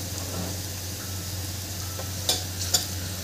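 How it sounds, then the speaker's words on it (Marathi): Onions sautéing with salt and turmeric in a pan give a steady low sizzle, with a couple of sharp stirring clicks near the end and no talking. "याला 1 मिनिट परतून घ्यायचं"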